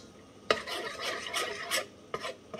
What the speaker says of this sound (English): And just keep stirring.